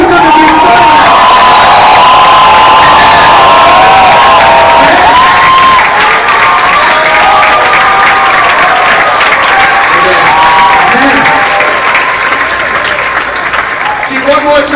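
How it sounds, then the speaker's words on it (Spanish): Large conference crowd at a Christian youth event bursting into sustained shouts of praise, cheering, whoops and applause, loud and continuous throughout with many voices overlapping. "let's give him a shout of praise"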